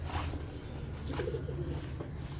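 Sialkoti black-faced pigeons coo softly in a loft, low murmuring calls repeating under a steady background rumble, with a faint chirp now and then.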